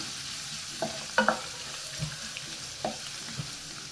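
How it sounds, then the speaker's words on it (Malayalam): Garlic, ginger and three green chilies stir-fried in a pan, with a steady soft sizzle broken by a few sharp spatula scrapes and clinks at close range. "വെളുത്തുള്ളിയുടെ ഇഞ്ചിയുടെ ഒക്കെ പച്ചമണം മാറുന്നവരെ ഒന്ന് ഇളക്കി വഴറ്റിയെടുക്കാം."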